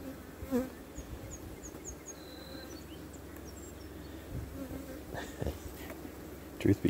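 Honey bees buzz steadily around an opened cell starter hive as a beekeeper works it, a dense close hum with scattered sharper whines of individual bees passing near, plus a few handling knocks.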